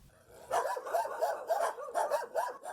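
Several dogs in a small animal shelter bark in quick, repeated bursts, close by and moderately loud, with a few yips mixed in and no talking.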